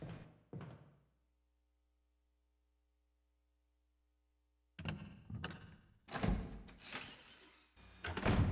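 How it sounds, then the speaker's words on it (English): Someone bangs on windows in the Resident Evil Remake video game: a couple of dull thuds, a long silent gap, then a cluster of louder, irregular knocks and thumps. "Oh, you hear that? Someone's banging on the windows."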